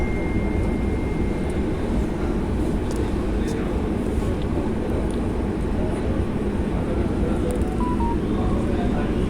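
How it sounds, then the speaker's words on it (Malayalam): An airplane flies overhead near the airport in Qatar, a steady broad jet rumble that stays loud and even throughout. "അതാ ഇനിയിപ്പോൾ ഒരു ഫ്ലൈറ്റ് പോകുന്നതാണ് കേട്ടോ"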